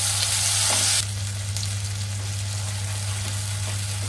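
Ground tomato and onion gravy frying in a pan, a steady loud sizzle right from the start that eases slightly after the first second and then holds even and close, with no voices.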